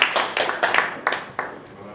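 A short burst of scattered hand claps from an audience at a church addiction-rehabilitation seminar, about half a dozen distinct claps fading out rather than a full sustained ovation.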